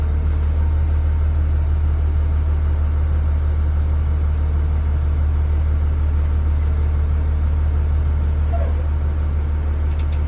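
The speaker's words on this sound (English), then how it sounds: "as I pull away, I'm going to be listening for any unusual noises coming from the engine" A car engine hums steadily at a low idle as the car pulls away in low gear, loud and continuous, with only a faint hint of rising pitch near the end.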